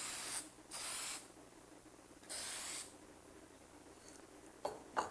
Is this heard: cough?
no